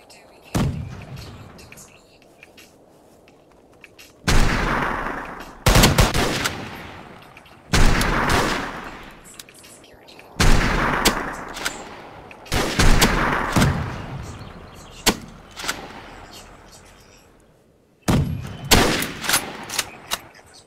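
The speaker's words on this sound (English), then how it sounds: "I'm getting shot at." Gunfire in the survival video game Unturned during a snowy blizzard match, heard as loud broadband bursts and volleys at intervals, with background wind between them and a voice speaking.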